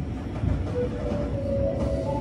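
Limited express Shirasagi pulling out of Tsuruga Station in the evening, heard from inside as a steady low rumble of rolling stock with a faint rising tonal whine from the motors as it gathers speed.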